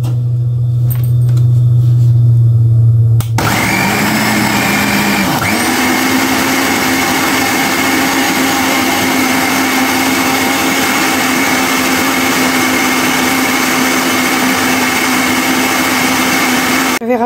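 An electric kitchen mixer whirs through cake batter with lemon zest. A short lower hum comes first, then the motor jumps to a loud, steady, high whine that holds close and constant for a long stretch.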